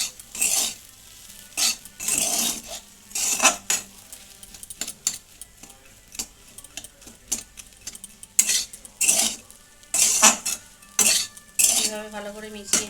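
Spoon stirring grated spice into gugni in a pan, irregular bursts of scraping and clinking strokes, close and fairly loud, separated by short quiet gaps.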